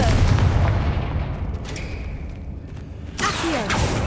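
The Confringo fire spell blasts in Hogwarts Legacy with a loud, deep booming rumble that fills the scene, then a second sharp burst and rush of noise near the end.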